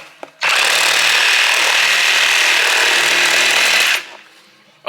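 A Milwaukee power tool fitted with a finer blade makes a loud, steady, hissing cut for about three and a half seconds, close and alone, then winds down.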